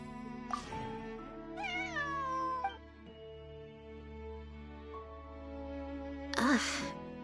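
A cat in the video game Genshin Impact gives several drawn-out meows with bending pitch, clear and close, between stretches of in-game voice dialogue over a soft musical backdrop.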